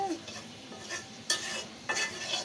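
Food is stirred in a pan while cooking onion and pua fish, with scraping utensil strokes against the pan over a soft sizzle, including a couple of sharper scrapes partway through.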